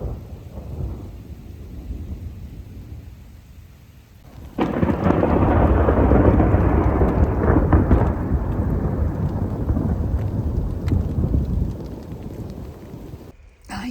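A thunderstorm with rain in the high mountains along the John Muir Trail: a loud rolling thunder rumble breaks in and decays slowly over steady, close rainfall, with rain continuing throughout.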